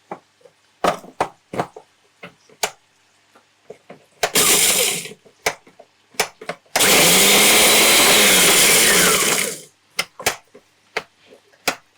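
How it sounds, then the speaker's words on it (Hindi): An electric kitchen grinder blitzing spices: two loud bursts of whirring motor, one short and one lasting several seconds, with the pitch wavering and dropping, set between sharp clicks and knocks from handling the machine, close by. "अब हम इसे ग्राइंड कर लेते हैं ताकि हाथों हाथ ये भी ग्राइंड हो जाए आपके सामने"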